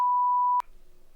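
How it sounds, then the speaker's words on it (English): A loud, steady electronic beep holds a single tone for about half a second, then cuts off abruptly into quiet room hiss. "Get ready for the beep."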